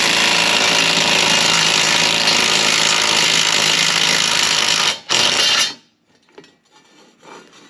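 Power tool running loud and steady on a 24mm rear subframe bolt of a 2020+ Ford Explorer, a continuous harsh whir for about five seconds with a brief dip, then cutting off to quiet shop noise.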